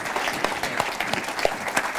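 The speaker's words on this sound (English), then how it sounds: "give him one more round of applause" Round of applause from an audience at an education event, steady clapping filling the short moment with individual claps standing out.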